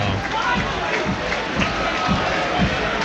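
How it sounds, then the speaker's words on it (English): Football crowd at a Hartlepool United v Gateshead National League match reacting to a substitution, a broad murmuring roar with rhythmic swells, heard at a distance under a radio commentator's voice. "That is the crowd reacting to Adam Campbell being brought off."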